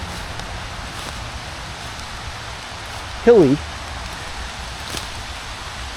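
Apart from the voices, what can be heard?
rain falling on leaves in woodland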